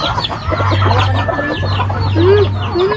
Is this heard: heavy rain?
no